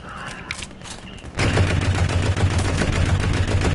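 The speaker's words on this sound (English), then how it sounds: "Random machine gun fire." Machine gun fire in War Thunder breaks out suddenly into a loud, dense, rapid rattle of continuous shots after a quieter opening.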